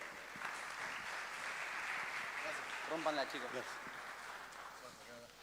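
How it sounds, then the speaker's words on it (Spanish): An audience at an industry talk gives a round of applause, steady clapping filling the room for several seconds while a voice briefly speaks over it, then the clapping thins out. "Un fuerte aplauso."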